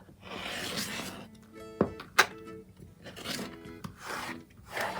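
Rotary cutter trimming a flying geese quilt block along a ruler, soft rasping cuts in short strokes with a couple of sharp clicks, quiet and close.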